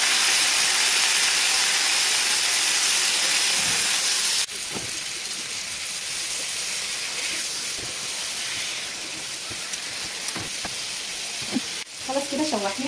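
Tomatoes fry in butter, garlic and local ghee with a loud, hissing sizzle at first that settles into a softer, steady crackle, broken by occasional clinks of stirring.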